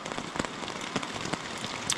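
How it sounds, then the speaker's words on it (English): Steady rain pattering on a tent on the Appalachian Trail, a dense continuous patter with scattered louder drops close overhead, no voices. "it's raining right now."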